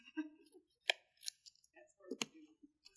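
Scissors snip through cardstock while a 6x6 card is being made, giving a few sharp crisp cuts among faint rustling, quiet and close, with no speech.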